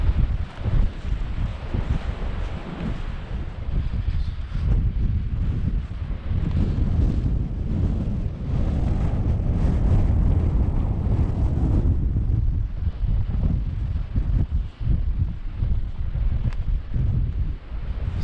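Strong wind buffets the microphone in a constant heavy rumble, gusting up and down throughout with no voices, on a walk near Smardale Gill Viaduct in Cumbria.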